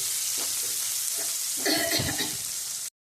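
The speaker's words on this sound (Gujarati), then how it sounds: "ડુંગળી નાખવાની છે, અને એને આપણે આખો ગુલાબી સાતળવાની છે" Onions sautéing in a hot pan for Gujarati tomato rice give a steady broadband sizzle with stirring scrapes, getting louder near the two-second mark, then cutting off abruptly.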